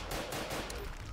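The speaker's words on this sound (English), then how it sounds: "we're shooting a lot of guns here" Guns firing during a zombie fight in the zoo survival game Zoochosis: a short, fairly faint, continuous clatter of shots with no break.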